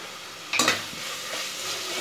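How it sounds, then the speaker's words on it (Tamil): Prawns and masala for prawn biryani are stirred and sautéed in a hot pan: a close, steady sizzle with a sharp scraping stir near the start and quieter stirring after, with no talking. "நல்லா அந்த எறாக்குள்ள அந்த மசாலாலாம் இறங்குற மாதிரி நல்லா வதக்கி விட்டுக்கோங்க."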